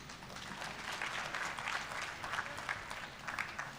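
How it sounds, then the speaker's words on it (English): Applause for the governor at the Kenya Red Cross Training Institute graduation ceremony, a quiet, distant-sounding patter of many hands with uneven swells. "Another clap for the governor"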